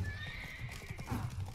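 Horse in the video game Witcher 3: Wild Hunt (Blood and Wine DLC) whinnies sharply over a quick patter of clip-clopping hooves, close and fairly quiet, in one short burst.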